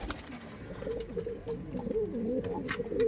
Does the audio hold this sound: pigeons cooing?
yes